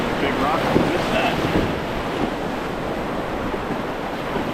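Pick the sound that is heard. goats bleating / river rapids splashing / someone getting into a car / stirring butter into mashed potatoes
river rapids splashing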